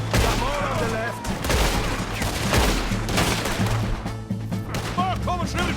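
Rapid gunfire in a shooting video game, sustained bursts of overlapping shots with booming impacts throughout, loud and close, with voices shouting in the midst.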